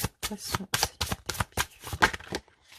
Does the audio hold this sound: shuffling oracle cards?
yes